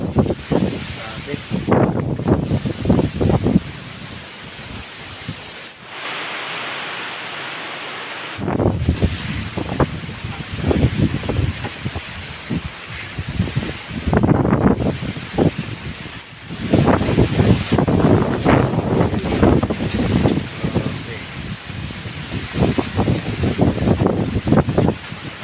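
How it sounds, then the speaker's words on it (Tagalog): Strong typhoon wind gusts roar and buffet the microphone in loud, irregular bursts over rain, with brief lulls between the blasts. "Ngayon po yung lakas ng hangin niya."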